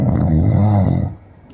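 Loud, close snoring, one long rasping inhale that stops abruptly, with no talking.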